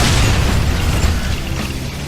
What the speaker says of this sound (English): the gas pumps still explode with deadly force